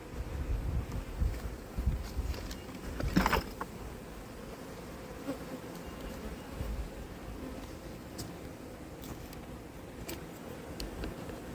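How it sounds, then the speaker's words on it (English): Honey bees buzz in a hive of a New Jersey colony in April, a steady low hum with a few louder close passes and light handling noise, heard alone without talk. "in the bottom it looks like we've got pretty much every frame there covered with bees"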